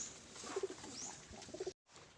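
Pigeons give a few soft, low coos in pairs as they are let out of their loft. The calls are faint and close, with a brief rustle and a short gap of silence near the end.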